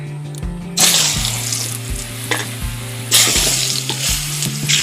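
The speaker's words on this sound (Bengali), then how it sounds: "এবার আমি আলুগুলো ভেজে নেব" Potatoes fry in oil seasoned with salt and turmeric, a loud, close, continuous sizzle with bursts of spattering and occasional stirring, no voices.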